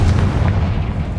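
The Confringo blasting spell explodes in the video game Hogwarts Legacy, a single loud booming burst with a dense low-end rumble that fills the whole short moment.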